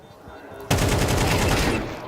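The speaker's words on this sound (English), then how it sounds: "A strong shot from Dexter." Gunfire from a Counter-Strike 2 match at a professional esports major: a sudden loud burst of rapid automatic shots that runs continuously for over a second after a quieter lead-in.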